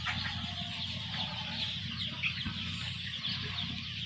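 Sonali chicken chicks peeping and cheeping in a close, busy chorus over a low steady hum, with soft clucking mixed in and no talk.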